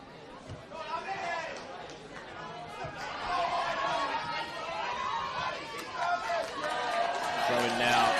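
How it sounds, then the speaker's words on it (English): Crowd of spectators at a college soccer match, a steady wash of chatter and cheering that swells louder through the second half, with some voices standing out near the field. "For some calls, you can hear a swell in the crowd."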